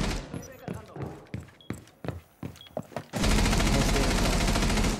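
Rapid gunfire in the video game Rainbow Six Siege during a ranked match: a string of sharp shots, then a dense sustained burst of automatic fire, loud, with game sounds and voices around it.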